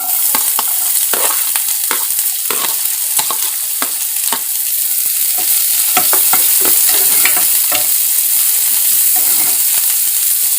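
Chopped onions fry in a pan until brown, a loud continuous sizzle broken by frequent sharp scrapes and clatters of stirring, close and without speech.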